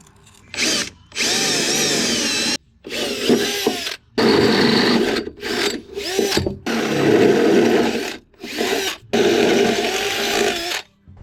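A power drill bores new bumper mounting holes into the frame of a 1999–2006 GMC/Chevy Duramax truck, running in several loud bursts of high-pitched whine separated by brief pauses.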